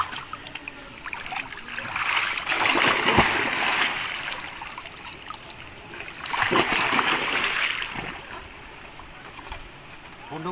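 People splashing about while bathing in the Osorio river on a hot day: two swelling bursts of sloshing, churning water over a steady background flow, fairly close.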